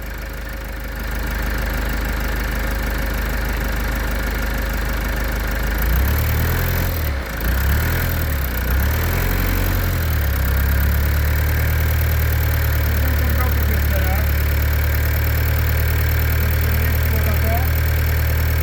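A Toyota 2.0 diesel car engine is revved to higher RPM, the loud steady running rising and wavering in a few surges before settling into a higher, even drone.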